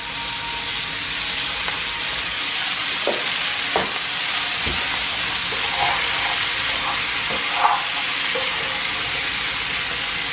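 Washed, peeled mixed seafood, rinsed with salt, sizzles steadily in a hot pan while being stirred with a spoon, giving a continuous loud frying hiss with occasional soft scrapes and clinks.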